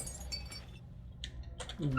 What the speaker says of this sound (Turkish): Şu camı bir kıralım.